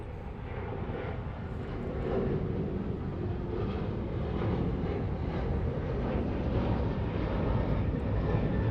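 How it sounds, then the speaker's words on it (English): British Airways Airbus A350 airliner arriving at Los Angeles International Airport, its engines a steady broad roar that swells slightly and holds at moderate distance, with no voices. "There's our British Airways Speedbird 350."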